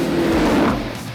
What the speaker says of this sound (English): After the track, it was time to take the Urus off-road.